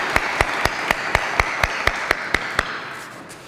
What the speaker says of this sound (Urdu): تو بہت زیادہ تالیاں